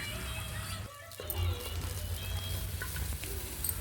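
Half an onion frying in hot oil as the base for mutton sambar, a steady close sizzle that briefly swells when the onion hits the pan.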